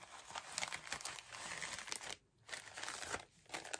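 A plastic bag crinkles and rustles up close as sewing patterns are stored in it, in quiet bursts of crackling with brief pauses between handlings.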